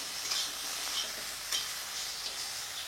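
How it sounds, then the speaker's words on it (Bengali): Crab frying in a pan with oil for a leaf-wrapped dish, a soft, steady sizzle with faint crackling pops at intervals, no talk. "কাঁকড়াটা একটু ভাজা করে নেব।"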